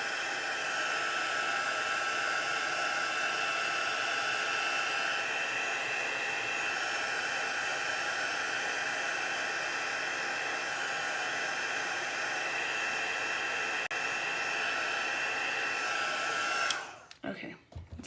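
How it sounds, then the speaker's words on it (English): A heat gun blows hot air steadily at close range for about sixteen seconds over a chalk transfer on a craft board, giving a continuous hissing whoosh. It switches off near the end, followed by brief handling noises. "Make sure you don't get the heat gun on your transfer"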